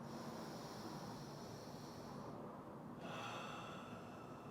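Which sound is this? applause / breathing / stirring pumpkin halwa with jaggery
breathing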